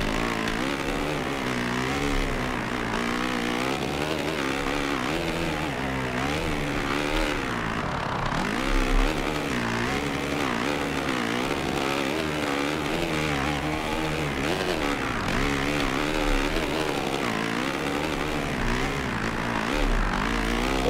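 Motocross motorcycle engine in MXGP 2 racing on an Argentina track, a steady buzzing two-wheel engine revving up and down through gears, close and continuous without speech.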